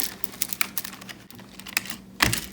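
A Dust Daddy cleaner is pressed against computer keyboard keys, making a run of light, irregular clicks and taps that ends in a sharper clatter, close and alone.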